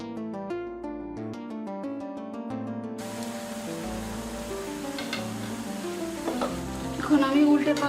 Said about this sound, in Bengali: এখন আমি উল্টে পাল্টে বুন্দিয়াগুলো ভেজে নিচ্ছি।